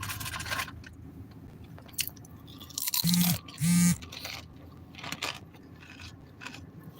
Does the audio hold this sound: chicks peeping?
no